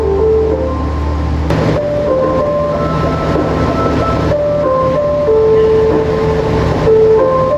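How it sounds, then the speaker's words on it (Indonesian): A Dharmawangsa passenger train rolls into Bojonegoro station, a steady loud rumble of wheels and carriage noise heard from aboard, with several brief tonal squeals and whines rising over it and no voices. "Kereta api Dharma Wangsa masuk di jalur 3 stasiun Bojonegoro."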